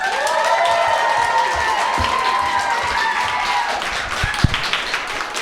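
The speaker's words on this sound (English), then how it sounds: "keep your claps going for Devon Roberts" Comedy club audience at Goodnights Comedy Club in Raleigh, NC, applauding steadily and fairly loudly throughout, a dense wash of clapping with a few sharper taps near the end.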